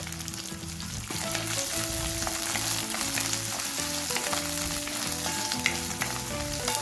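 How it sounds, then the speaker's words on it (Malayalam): Chopped green chilli and ginger sizzle and sauté in a pan for Kuska rice, a constant close frying hiss with stirring scrapes while a tonal hum runs in the background. "പച്ചമുളക് മുറിച്ചിട്ടതും ഇഞ്ചിയും കൂടി ഇട്ട് കൊടുക്കാം"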